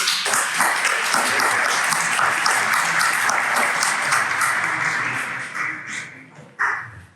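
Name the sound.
audience applause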